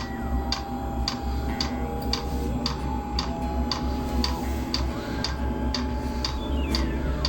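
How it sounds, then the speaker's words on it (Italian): A portable all-in-one diesel heater's fuel pump ticks in a steady rhythm, about two clicks per second, over a continuous low hum and whir of the running burner and fan. "si sente il rumore della pompa che ticchetta"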